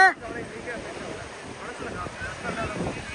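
Sea waves wash in at Velankanni beach, a soft rolling surf under gusty wind buffeting the microphone, with faint voices nearby.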